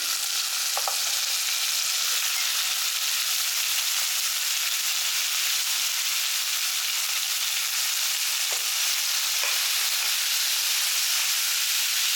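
Finely chopped chayote frying with sautéed tomatoes in a pan gives a loud, steady sizzle and hiss that runs unbroken, with a couple of faint stirring taps.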